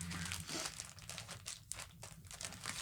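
Paper for a craft project crinkled and handled close by, a steady run of crisp rustles and crackles with brief tearing-like bursts, no talk.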